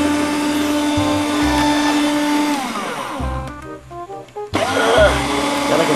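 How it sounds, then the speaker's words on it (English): A handheld electric screwdriver whirs in steady bursts with a motor hum that starts, stops and restarts, running close and fairly loud with brief pauses between spins. "The electric screwdriver."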